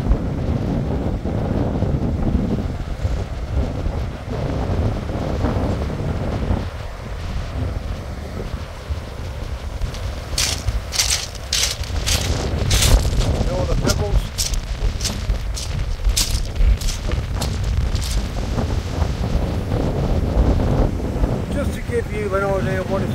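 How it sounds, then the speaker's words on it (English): Heavy wind buffeting the microphone over rough surf at Lyme Regis beach, with sharp bursts of stormy waves crashing and splashing against the sea wall in the middle. "splashing up the sea wall over there."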